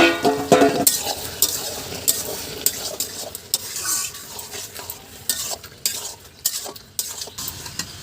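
A spatula stirs chopped bottle gourd and prawns in a hot pan for Bengali lau chingri, with steady sizzling and repeated scraping and clinking against the metal.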